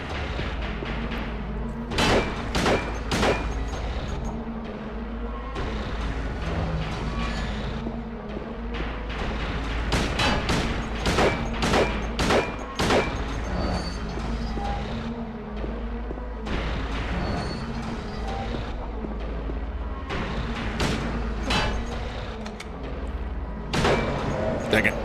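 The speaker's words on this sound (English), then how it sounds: "There are a lot of shots here." Gunshots from Silent Hill 2 ring out in irregular bursts, a handful of sharp, loud cracks at a time separated by short pauses, over a low droning game ambience.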